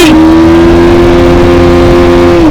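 Bajaj Pulsar 180 motorcycle pulling hard in first gear, a loud, steady engine drone rising gradually in pitch as the bike accelerates, close and continuous with no talk.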